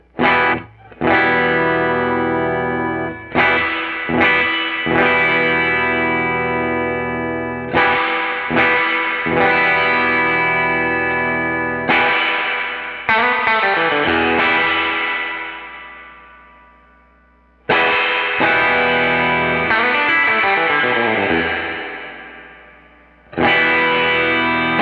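An electric guitar runs through a stand-alone reverb tank as the dwell knob is raised from zero, strummed chords ringing with a growing wash of reverb tail that decays into silence between phrases.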